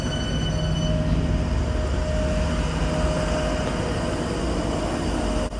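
A Tyne and Wear Metro train runs steadily through Monument station in Newcastle city centre, giving a loud, continuous rumble and hum across the whole stretch with no pauses and no voices.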